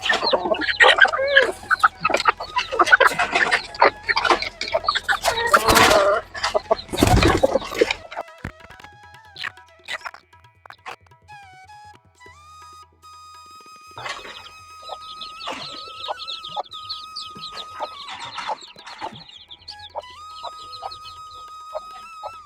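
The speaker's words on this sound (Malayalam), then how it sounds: "നമ്മളെ കോഴികളൊക്കെ ഇതാക്കുന്ന ആകെ ഒച്ചയും ബഹളമായിട്ട് നിൽക്കുക കേട്ടോ." Free-range poultry chickens cluck noisily and loudly up close for the first several seconds, then thinner, intermittent clucks and calls continue more quietly over the rest of the scene.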